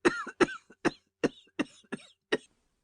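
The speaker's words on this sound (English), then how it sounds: "Her cough choked her" A woman coughs in a series of seven sharp, close hacking bursts spaced about a third of a second apart, each brief and harsh, fading out at the end.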